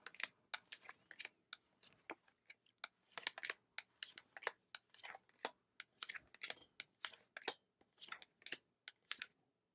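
Tarot cards dealt out onto a table in a Celtic cross spread make a quick run of crisp slaps and soft flicks, one after another in an uneven rhythm, close and quiet.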